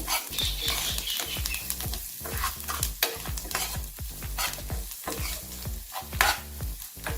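A spiced potato mixture with fresh coriander is stirred in a pan, the spoon scraping in quick, steady strokes over a faint sizzle, close and fairly loud with no voices.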